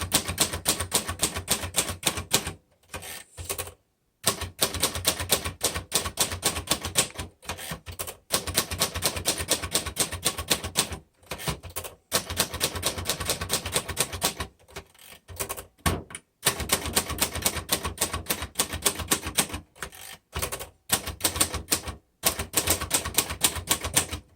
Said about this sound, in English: This is a good everyday typewriter.